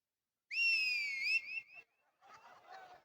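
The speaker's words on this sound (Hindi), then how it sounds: "बेटा सीटी बजा के बताओ मौसी के लिए" Someone whistles on request: a loud, sustained two-tone whistle with sliding pitch for about a second, then shorter, fainter whistled phrases trailing off, with no talk.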